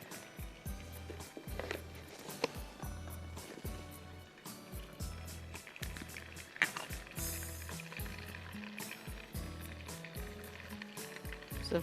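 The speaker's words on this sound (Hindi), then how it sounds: "हीट ऑयल एंड बटर, इसमें मैंने सफ़ेद ज़ीरा डालना है, जिंजर गार्लिक पेस्ट डालूँगी।" Cumin and ginger garlic paste fry in hot oil and butter, giving a faint steady sizzle broken by soft repeated clunks and scraping of stirring.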